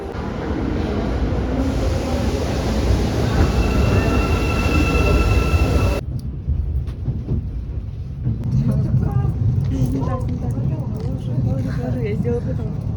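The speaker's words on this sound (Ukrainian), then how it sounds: "Ми чекаємо на поїзд." A train pulls into a station platform with a loud, heavy rumble and faint high wheel squeal, then the sound drops to a lower rolling clatter as voices carry nearby.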